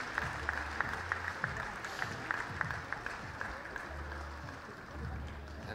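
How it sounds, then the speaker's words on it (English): Applause from the audience at the European Dog Show 2015 junior judging, a moderate spread of clapping with a few sharp claps standing out, while a voice speaks over the arena sound system beneath it. "Big round of applause for all our beautiful juniors."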